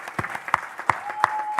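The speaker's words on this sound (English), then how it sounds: "Let's give them a round of applause." A small crowd claps steadily for a girls flag football team at a commission meeting, roughly five distinct claps with a brief whistle-like tone partway through.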